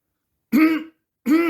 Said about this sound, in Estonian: Köhatas Rakett vihaselt.